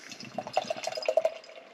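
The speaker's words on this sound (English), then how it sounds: "So let's get that pour." Allagash White beer pouring into a craft beer glass, a short liquid splash and glugging stream with dripping, bubbly texture, close and fairly loud with no talking.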